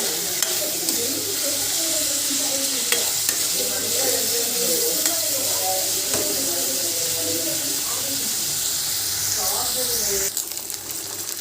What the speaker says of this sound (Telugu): ఆనియన్స్ అయితే ఫ్రై అయిపోయాయండి